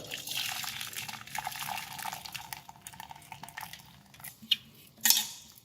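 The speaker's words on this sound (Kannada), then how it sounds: "ಈಗ ಈ ಕಷಾಯವನ್ನು ನಾವು ಸೋಸ್ಕೊಳ್ಳೋಣ" Punarnava leaf decoction strained in a kitchen after the gas is switched off: metal pots and utensils clink and scrape over a soft trickle of liquid, with a few sharper knocks near the end and no talking.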